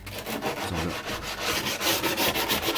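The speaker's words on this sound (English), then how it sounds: "might give it a little sand lightly just to get some of the burrs and splinters out" Light hand sanding of a salvaged wooden piece pulled from street rubbish to knock off burrs and splinters, a close, continuous scratchy rubbing in quick back-and-forth strokes.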